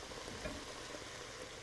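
Beef for goulash goes into a hot pot with onions and red wine, producing a dense, continuous sizzle with faint stirring scrapes throughout the short moment.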